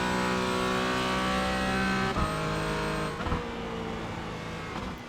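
Racing car engines in iRacing, a Porsche Cayman GT4 at Sebring, drone steadily and loudly with layered harmonic tones, shifting pitch as one car moves to pass another, with no voices.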